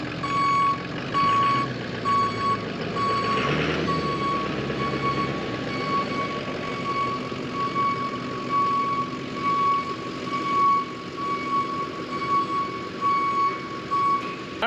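Ford Super Duty work truck reversing into a garage, its backup alarm beeping steadily at an even pace over a low idling engine rumble, fairly close.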